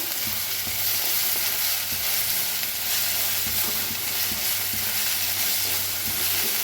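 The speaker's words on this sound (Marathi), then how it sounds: "आता ह्याच्यातच अद्रक आणि लसूण चेचून घेतलेला आहे, ते मी भाजून घेऊया।" Crushed ginger and garlic fry in a pan with a loud, steady sizzle, close up, with light stirring scrapes and small pops underneath and no talking.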